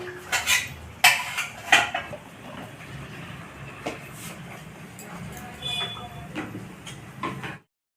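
Cooking pot holding cauliflower and potato curry lifted off the stove: a few sharp metallic clanks and scrapes at the start, then quieter shuffling and handling noises before it cuts off.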